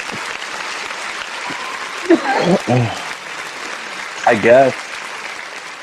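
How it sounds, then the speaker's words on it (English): Studio audience applause and cheering from a live NFL sports-betting talk show, a steady crowd roar running throughout while a host speaks over it in short bursts. "Every time I say that name, the crowd goes crazy."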